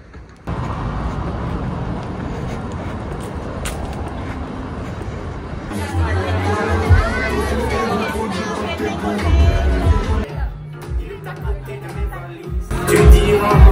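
Busy crowd noise in a crowded public place, a dense babble of voices with traffic rumble underneath, swelling louder midway with a heavy low hum and people talking throughout.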